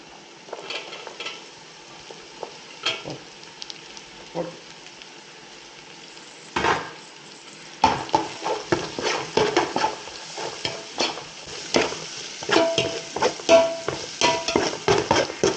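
Green and yellow capsicum stir-fried for chicken 65 fried rice, a loud crackling sizzle in a hot pan with repeated scraping and clanking of a spatula, growing busier after the first few seconds.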